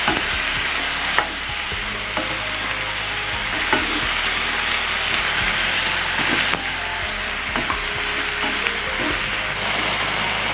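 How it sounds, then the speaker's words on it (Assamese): Snakehead fish seasoned with salt fries loudly in a pan, a dense, unbroken sizzle close up with scattered spatula knocks and stirring scrapes throughout. "আৰু এইখিনি আকৌ এবাৰ ফ্ৰাই কৰি লৈছোঁ"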